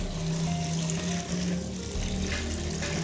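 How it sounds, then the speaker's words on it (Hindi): Fifteen litres of water poured into a large pot holding eight kilos of beef for boiling, a steady splashing gush running continuously and close, with no voices. "उसमें हम शामिल करेंगे 15 लीटर पानी"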